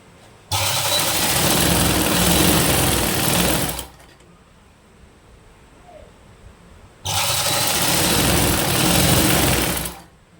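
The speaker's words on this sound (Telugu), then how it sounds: "కొంచెం కొంచెం ఇలా మడుచుకుంటూ స్టిచ్ చేసుకుంటూ రావటమే" Sewing machine stitching a folded cloth neck strip with cross pieces, running in two long loud bursts separated by a brief quiet pause, with no talking.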